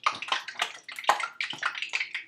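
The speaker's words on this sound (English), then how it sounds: "put a little water on your fingers and throw it in. Yeah, you see how it's kind of bubbling up?" Water flicked into hot frying oil for carnitas crackles and sizzles in rapid, sharp popping bursts, close and fairly loud, with no talking over it.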